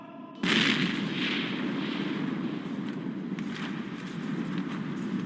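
Film explosions and war bombardment, a sudden loud blast followed by a sustained roaring rumble with scattered crackling bursts, continuous and close.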